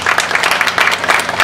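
Steady crowd applause at a college softball Sophomore Day ceremony honoring the Lady Indian sophomores and their families, dense continuous clapping from a stand of spectators.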